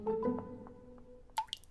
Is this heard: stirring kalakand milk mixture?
no